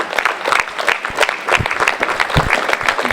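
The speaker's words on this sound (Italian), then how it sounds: "l'applauso del pubblico" Audience applause at the close of a theatre show in Riva Ligure, a dense crowd clapping steadily and close for a few seconds with scattered louder claps, no voices over it.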